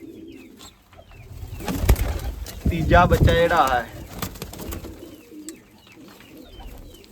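Broad-headed breed pigeons cooing close by in a loft, a rolling, repeated coo swelling in the middle of the clip, with someone talking before and during it.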